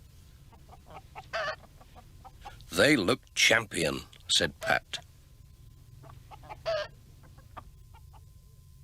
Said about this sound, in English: At Intake Farm, George Lancaster showed Pat his special prize hens.